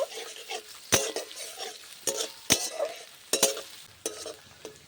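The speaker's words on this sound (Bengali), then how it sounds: "পেঁয়াজ আর রসুনটাকে একটু ভেজে নেব লাল করা যাবে না একটু হালকা করেই ভেজে নেব" Chopped onion and garlic fry lightly in a pan, a quiet sizzle broken by sharp clinks and scrapes as a spoon stirs against the metal, several strokes spaced a second or so apart.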